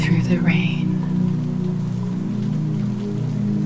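Steady rain falls on a city street in a continuous, even wash of patter, with a low sustained hum and a speaking voice running underneath throughout.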